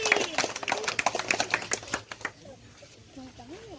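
A classroom of children claps in a quick, uneven burst of sharp hand claps that fades out after about two seconds, followed by a quieter stretch with a voice speaking.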